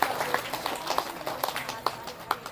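An audience at a devotional Hindu kirtan gathering claps along, with distinct hand claps landing in a loose, uneven rhythm over a faint background murmur, fairly close and moderately loud.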